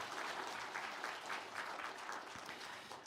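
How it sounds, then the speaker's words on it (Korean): A church congregation at a New Year's Eve worship service claps steadily together, a dense wash of applause from a crowd that holds at an even level for a few seconds. "우리가 함께 감사의 박수를 하나님께 올려드리겠습니다"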